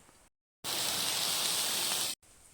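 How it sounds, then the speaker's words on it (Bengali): Rain comes down in a steady, dense wash of noise, loud and uniform for about a second and a half, with quieter stretches before and after. "এখনো বৃষ্টি হচ্ছে"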